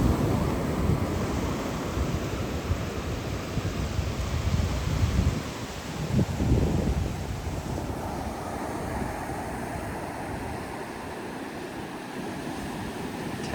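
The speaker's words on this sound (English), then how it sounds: "Tide is definitely coming back in." Incoming tide washing waves ashore along the Savannah coast, a steady, continuous roar of surf with gusty wind buffeting the microphone, loud and close throughout with no voices.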